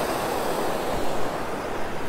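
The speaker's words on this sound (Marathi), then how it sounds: "इथे बघा नदी अशी वाहते" A river flows at Pen in the Konkan region, a steady broadband rush of water heard close and fairly loud, with some wind buffeting the microphone and no talking.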